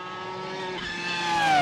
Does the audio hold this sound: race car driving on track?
yes